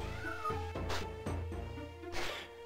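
A cat gives several drawn-out meows in a row, each rising and then falling. The calls are close and clear, and no one speaks.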